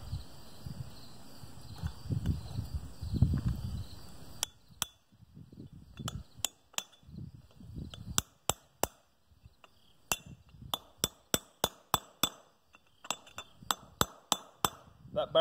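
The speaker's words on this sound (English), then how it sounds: "But very gently with your chisel, start this thing in here." A chisel gently taps a hardened wheel bearing race into place on an old grain cart, giving a string of sharp, close metallic clinks at an uneven rhythm that follows an earlier stretch of low rumbling handling noise.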